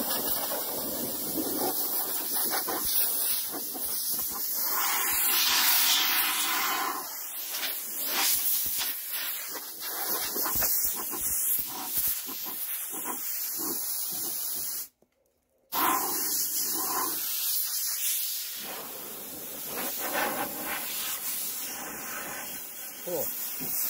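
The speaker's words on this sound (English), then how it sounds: "Right, let's blow this off. Prepare for a lot of dust." Compressed air blasting dust off a car body panel during DIY body repair before priming, a loud continuous hiss in long bursts with one brief cutoff midway.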